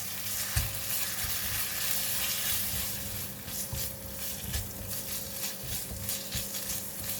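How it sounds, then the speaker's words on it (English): Minced pork and pickled vegetable stir-fry in a hot pan with a sauce mix, a steady sizzle broken by repeated scraping and tossing strokes up close, no talking. "Continue to stir fry until the meat is cooked."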